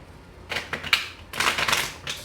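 Tarot cards are shuffled up close in a few quick, crisp papery bursts: a short riffle, a brief pause, then a longer rattling flurry, with no voices.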